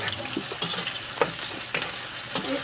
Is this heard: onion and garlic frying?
yes